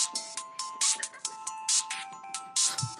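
A mobile phone rings with an incoming call, its electronic ringtone repeating in bright, regular pulses, loud and close, with no talk over it.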